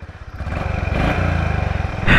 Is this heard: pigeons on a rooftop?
no